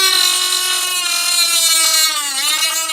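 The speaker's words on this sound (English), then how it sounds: "then I take the Dremel, turn it on" A Dremel rotary tool cutting plastic on a Garden Tower 2 planter: a loud, steady high-pitched motor whine with slight pitch dips as the bit bites, heard close and alone.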